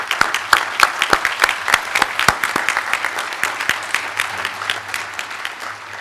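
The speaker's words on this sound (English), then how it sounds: "let's pause and give them a round of applause too" A ceremony audience at a California Medal of Valor event applauding recipients' loved ones, dense sustained clapping with individual sharp claps standing out, loud at first and easing slightly over six seconds.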